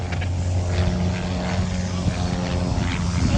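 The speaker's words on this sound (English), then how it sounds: "this is Eric Edgren and his airplane T-Class" An aerobatic T-Class airplane flying at an airshow drones with a steady propeller engine hum, continuous and moderately loud, under faint crowd and commentary sounds.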